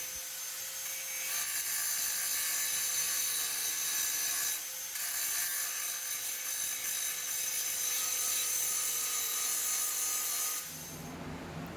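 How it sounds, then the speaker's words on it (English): A grinder flattens spot welds on a rusty car body during repair, a steady, loud, high abrasive whir held for about ten seconds with a brief dip midway before it cuts off near the end. "Some more grinding here to flatten out those spot welds."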